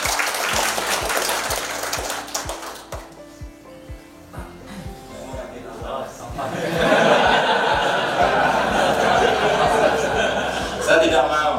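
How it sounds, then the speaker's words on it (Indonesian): Seminar audience applauding in a hall, a dense wash of many hands clapping that swells and holds near the end, following a stretch of amplified talk with some chuckles. "Tepuk tangan dulu dong untuk rekan."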